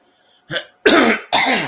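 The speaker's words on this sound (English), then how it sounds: "Wasn't coughing before." Two loud, harsh coughs close by, preceded by a brief throat-clearing sound, with silence between them.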